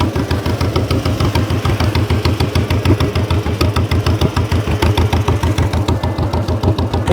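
A 1949 John Deere tractor engine runs outdoors in cold, snowy weather, chugging with a loud, steady, rapid low pulse throughout.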